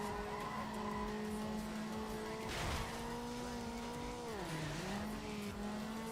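Engine of a racing car in a driving video game drones steadily with shifting pitch, then its tires squeal and skid in a brief slide around the middle and again near the end, with background music underneath.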